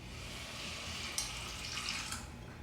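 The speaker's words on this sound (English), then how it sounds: "Then we just add our water." Water is poured into a pot over Biscoff cookie butter, light brown sugar, cinnamon and nutmeg for a syrup, making a close, steady splashing trickle with a brief louder gush midway.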